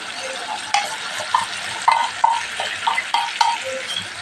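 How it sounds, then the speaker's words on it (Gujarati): Spinach puree being stirred into a sizzling gravy for palak paneer, a steady fry hiss broken by repeated scraping clinks of a spoon against the pan. "તો અહીંયા આપણે પાલકની પ્યુરીને ઉમેરી દઈશું"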